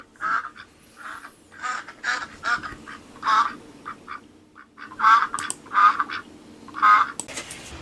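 A duck quacks repeatedly in a lively, uneven series of nasal calls, some single and some in quick clusters, clear and fairly close against a quiet background with no talking.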